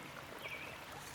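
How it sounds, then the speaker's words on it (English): A babbling creek flowing outdoors, a steady close wash of running water with no voices over its brief length. "just chilling by the babbling creek or whatever"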